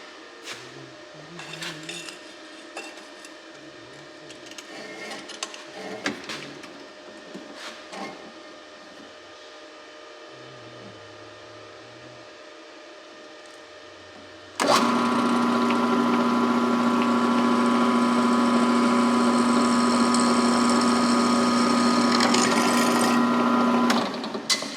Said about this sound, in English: let's walk over here to the drill press and go push it through